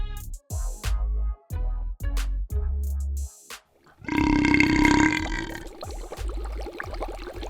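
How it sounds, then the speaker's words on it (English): A burp sound effect for a cartoon drunk fish: a run of short, deep, gurgling belches in quick succession, then one long, loud, rasping belch that trails off, with no talking. "Do fish belch like humans when they're drunk?"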